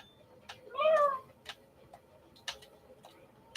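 A single short cat meow in a video game, rising and falling near the start, set among sparse regular ticking clicks in an otherwise quiet background.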